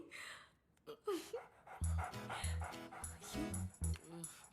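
A dog pants in quick, uneven breaths close by, mixed with a few soft whimpers and yips, fairly quiet overall.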